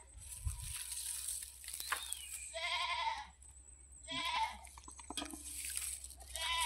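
Sheep bleat on a farm, several wavering calls in a row from nearby animals, separated by brief quiet gaps, with a faint low hum underneath.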